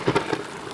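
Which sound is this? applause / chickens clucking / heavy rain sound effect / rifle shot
heavy rain sound effect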